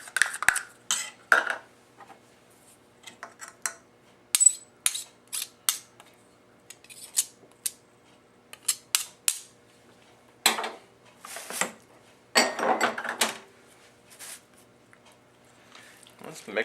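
Avocado, mango and tomato salsa is stirred in a bowl with a utensil, giving irregular clinks, scrapes and wet squishes in close, separate bursts with quiet gaps between them.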